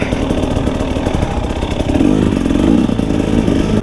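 A 2018 KTM 300 enduro motorcycle racing in a hare scramble, its two-stroke engine droning loud and close, holding steady and then rising in pitch as the throttle opens, with mechanical clatter underneath.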